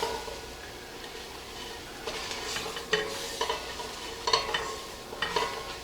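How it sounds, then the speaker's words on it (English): A spoon stirs flour into a seafood chowder base in a pot, giving soft scraping strokes and a few sharper knocks over a low, steady sizzle, fairly close and without voices. "And let's add our flour. Stir that right in nicely."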